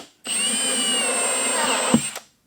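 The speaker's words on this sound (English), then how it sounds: "Got a drill with a 25mm hole saw" Power drill fitted with a small 25mm hole saw boring a hole during homestead odd jobs: a steady high motor whine that starts abruptly, holds evenly for nearly two seconds, then stops with a brief bump as it finishes.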